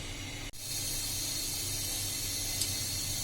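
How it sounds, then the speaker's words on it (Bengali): Milk boils in a pot for caramel pudding, giving a steady bubbling hiss that runs throughout, with a brief dropout near the start and a small click later. "দুধের বলক উঠে আছে।"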